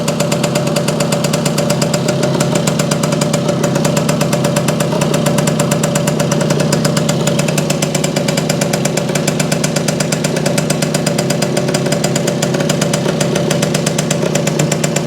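A small Yamaha motorcycle engine idles in neutral close by, a steady, rapid putter with a fast mechanical ticking rhythm, loud and unchanging.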